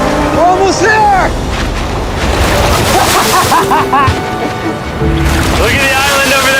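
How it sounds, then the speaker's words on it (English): Big ocean waves roll and break near an island, a loud, churning wash of surging water and splashes heard up close while people talk and shout over it. "Those waves look really big over there. And they're coming right at us."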